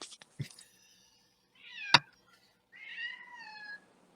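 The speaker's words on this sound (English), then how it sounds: "Bring the cat on camera." Domestic cat meowing in two drawn-out calls, fairly close and moderately loud, with a sharp knock between them and a few faint taps at the start.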